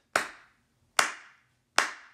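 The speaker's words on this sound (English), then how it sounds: "As I clap, you march." A preacher claps his hands three times, sharp single claps spaced about a second apart, close and loud with short ringing decay in a church hall.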